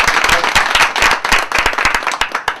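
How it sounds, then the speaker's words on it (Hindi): An audience claps together for a volunteer called up at a talk, producing a dense, steady burst of applause that stays close and fairly loud for a few seconds before tapering slightly. "सर के लिए एक जोरदार तालियां बजाइए"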